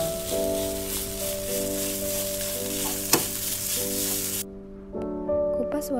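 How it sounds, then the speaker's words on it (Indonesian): Tempeh and tuna frying with red spice paste in oil, a steady close sizzle with a sharp clack of a utensil midway, under a sustained musical tone, then an abrupt drop to quieter background. "Masukkan tempe tongkol bumbu merah dan masak hingga matang."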